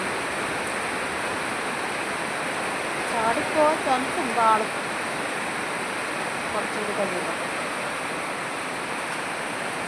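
Heavy monsoon rain in Ernakulam keeps up a dense, unbroken hiss while someone talks briefly over it partway through.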